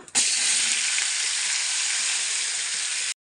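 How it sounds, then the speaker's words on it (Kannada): Mustard seeds tempering in hot oil for a homestyle Karnataka ridge gourd stir-fry, a loud, steady, close-up sizzle that starts abruptly and cuts off after about three seconds. "ಎಣ್ಣೆ ಕಾದ್ಮೇಲೆ ಸ್ವಲ್ಪ ಸಾಸಿವೆ ಅದು ಚಟಪಟ ಆದಮೇಲೆ"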